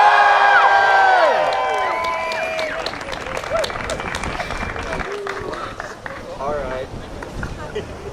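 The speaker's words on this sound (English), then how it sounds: "Everybody, one more round of applause for Trey." A crowd at a 2009 Prop 8 protest in Oklahoma City claps and cheers loudly, with whoops and shouting voices over steady applause that slowly thins out.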